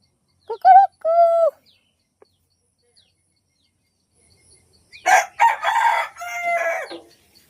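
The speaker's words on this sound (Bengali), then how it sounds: "সকাল হয়ে গেছে, মুরগিগুলোকে ছেড়ে দিতে হবে" A rooster crows in the morning as chickens are let out, with a short crow, a long quiet gap, then a longer, louder crow close by.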